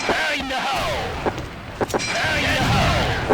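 Grenade blasts in the video game XSHOT, a few short booms punching through over a steady bed of excited commentary in Thai.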